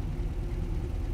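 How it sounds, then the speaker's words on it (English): A dune buggy engine idles in evening traffic during a creek car cruise: a steady, close, low mechanical rumble that holds without break or rev change, with no speech. "Sitting in traffic, kind of idling around."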